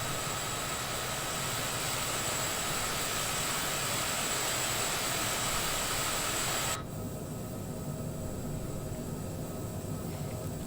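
A Bede BD-5J small jet in Microsoft Flight Simulator 2020 flies away from the runway at Ajaccio, giving a steady, hissing jet whine that drops abruptly in brightness partway through, then continues more softly.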